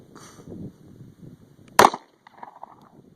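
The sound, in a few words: gunshots at a shooting range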